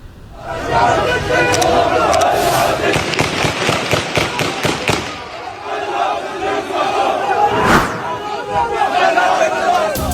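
A loud crowd of mourners at a funeral procession in Gaza shouts in panic while sharp bangs crack out, with a big broadband bomb blast near the end and voices continuing through it.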